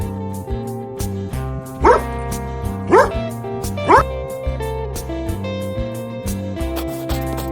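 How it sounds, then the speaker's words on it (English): A dog barks three times at an even pace, each bark sharp and clear, over cheerful background music. "D for dog."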